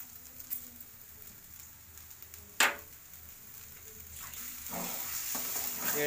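Bengali pea kochuri filling, seasoned with salt and sugar, stirred and fried in a pan: a steady low sizzle with one sharp clink of utensil on metal partway through and soft scraping afterwards.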